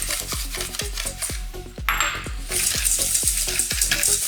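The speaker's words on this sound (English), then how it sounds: "we're going to beat these until they lighten up into more of a yellow color" Egg yolks are beaten with a utensil in a bowl, a brisk regular run of clinking strokes close by, followed by a louder continuous rattling whisk.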